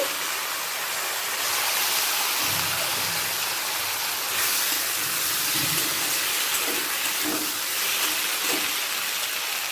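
Mixed vegetables with tomato fry slowly on a low flame, producing a steady broad hiss with faint soft crackles throughout.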